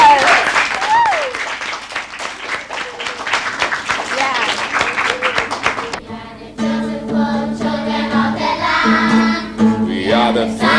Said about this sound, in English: Shall we give her a round of applause?